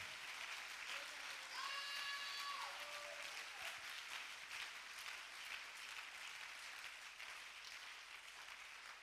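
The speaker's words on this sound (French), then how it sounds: "Let me give the Lord a hand clap offering." A church congregation claps hands together in a quiet, steady patter of applause, with a brief sung or called voice rising early on before the clapping continues evenly and softly to the end.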